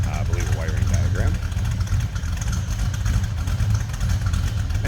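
A 1974 Dodge Dart with a 360 V8 idles with a deep, loping rumble, steady and close, while a voice talks briefly over it.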